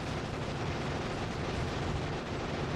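Grenade explosions in the game Factorio on a Deathworld Extreme map: a dense, continuous roar of blasts and low rumble that stays loud and unbroken throughout, with no distinct gaps.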